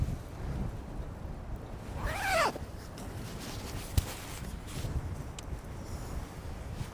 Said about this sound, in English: that's a good gust of wind